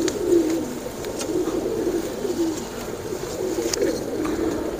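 Teddy pigeons cooing nearby in a loft, soft throaty coos that roll on continuously in overlapping waves, with faint chirps and a few light clicks in the background.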